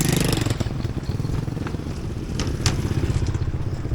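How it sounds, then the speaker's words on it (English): Motorbikes come and go over a bridge in Vang Vieng, Laos, a continuous rumble of engines with clattering, thumping passes close by, loud and steady throughout with no talk. "Motorbikes are coming and going."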